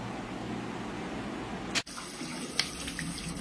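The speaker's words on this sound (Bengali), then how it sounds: "মুখ ধুচ্ছি রে" Water runs steadily from a tap into a sink while someone washes their face, a continuous close splashing hiss with a brief clunk and a small splash partway through.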